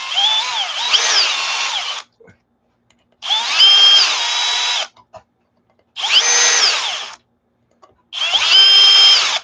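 A cordless power drill whirs in four bursts of about two seconds each, removing an Arrma Notorious RC truck wheel, pitch rising and falling as it spins up and slows, close and loud.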